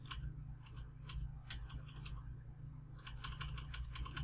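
Rapid clicking of computer keyboard keys pressed in quick irregular runs, close but quiet over a steady low electrical hum, no voices.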